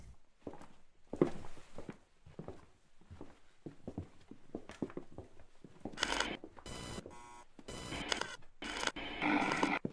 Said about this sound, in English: Pick up a pin in front of you and scrape the tape.